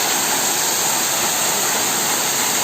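Ezharakund waterfall pouring steadily in the dry season, a dense continuous roar of falling water close by, with no voices.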